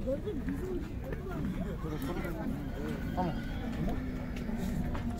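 Horses at a busy Bishkek horse market neigh and move about among a crowd of people talking.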